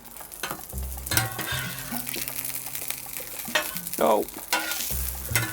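Frozen sausage squares fry in a pan and get flipped, a steady sizzle broken by several scraping clatters of a spatula and a brief burst of louder hissing as a piece lands, with a short exclamation.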